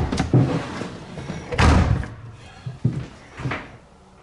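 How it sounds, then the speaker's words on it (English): Apartment back door opening and closing, a sequence of close, loud thumps and rattles with a heavy slam around the middle, followed by softer knocks and latch sounds. "If we go out the back door,"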